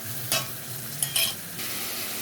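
Tomato paste fries in hot oil in a wok with a steady close sizzle, broken by a few sharp bright crackles and spatters.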